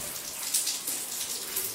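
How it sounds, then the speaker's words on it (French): Running water from a tap in a guest house, a soft, steady hiss and splash heard faintly for a brief moment. "l'eau courante circule déjà"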